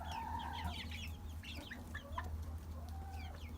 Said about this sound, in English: So here's our new little rooster.